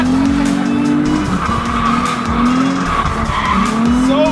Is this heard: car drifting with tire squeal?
yes